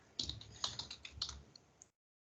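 Quiet, close typing on a computer keyboard, a quick irregular run of soft key clicks lasting under two seconds, heard alone.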